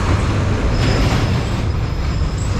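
Loud, steady rumbling traffic roar in downtown Owego, New York, with a faint high squeal drifting in and out, continuous and close, with no voices.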